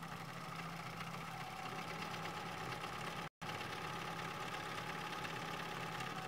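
A sewing machine runs a decorative stitch on a denim and manila folder journal cover, giving a steady, fast mechanical whir with a rhythmic hum that pauses for a split second midway.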